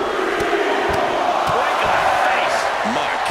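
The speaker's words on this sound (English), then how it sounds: "This crowd has been building, and they are in a fever pitch right now" A packed wrestling arena crowd roars at fever pitch during a WWE SmackDown tag team match, a dense continuous wall of shouting and cheering with scattered whoops and thuds, loud and sustained throughout.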